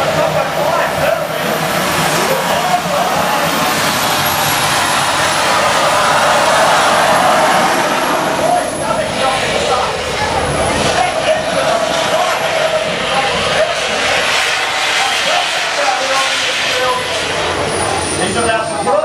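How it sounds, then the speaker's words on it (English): A jet-powered quad bike at Lismore Speedway revs with its afterburners lit, giving a loud, continuous roar that stays steady and close for the whole stretch, with an announcer talking over the top. "Here we go, engines rev. Afterburners on."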